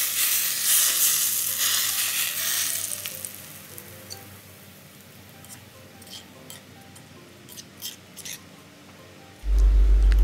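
Hot oil poured over freshly made sambal for seblak sets off a loud, steady sizzle that fades into softer crackling, ending with a sudden low thump.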